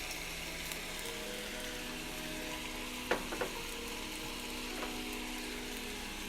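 Macaroni sizzles and fries in a hot pan, a steady close crackling hiss punctuated by a few sharp clinks and stirring knocks around the middle.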